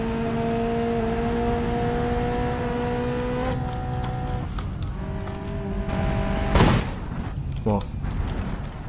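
Car engine backfiring with a sharp bang followed by a crash into a pole or barrier in the driving simulator BeamNG.drive, a loud broadband burst rising out of steady engine tones and a second smaller impact shortly after.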